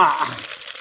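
Three eggs sizzle and crackle in a pan over an outdoor fire in a forest, a short hissing spatter that fades quickly.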